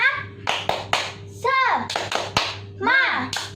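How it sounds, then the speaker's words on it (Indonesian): Young children in a toddler Sunday school class doing a rhythmic 'tepuk semangat' clapping chant, sharp hand claps spaced among chanted voices of a leader and kids, close and lively. "Tepuk semangat."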